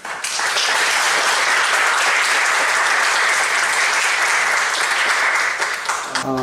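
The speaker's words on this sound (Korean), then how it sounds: "우리 나오시는데 박수로 환영하겠습니다." A church congregation applauds to welcome a monastic community's head brother coming up to preach, steady sustained clapping from many hands filling the room before fading at the end.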